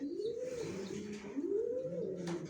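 Baby bagha grizzle racer pigeons of Johnson line coo in two drawn-out rising and falling phrases, close but quiet, over low background noise without talk.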